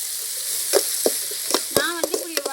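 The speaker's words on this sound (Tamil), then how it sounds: "ஒரு நாலு அஞ்சு தக்காளி அரிஞ்சு அதை சேர்த்து அதை வதக்கிடலாம்" Chopped tomatoes and green chillies sautéing in a pan: a bright, steady sizzle with a few quick stirring scrapes and clinks toward the end.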